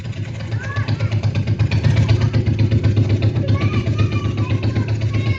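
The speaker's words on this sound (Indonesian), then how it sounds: "suara skuter" A small scooter engine putters steadily with a rapid, even pulse, fairly close, over a faint background of chatter and noise.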